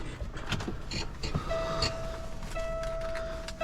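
A truck engine runs loud and steady with a low rumble, and a sustained whine rises over it partway through. No one speaks.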